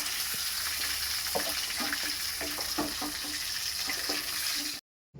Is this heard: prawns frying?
yes